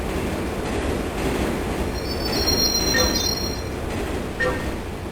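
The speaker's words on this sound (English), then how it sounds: "And once this train passes, we have to get on it." A train rumbles past in the video game Turok 3, a steady loud roar of rolling wheels with thin high metallic squeals rising over it midway.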